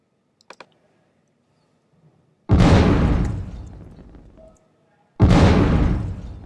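Two loud, booming bursts from meteor explosions in a Game Maker UFO video game, each decaying over about two seconds, preceded by faint clicks.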